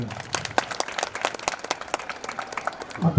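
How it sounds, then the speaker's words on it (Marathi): A room of people claps for a retiring colleague at a farewell gathering, a moderate burst of scattered hand claps with a few murmured voices near the end. "शिवाजीराव आवटी सरांच्या करता टाळ्या वाजवूया"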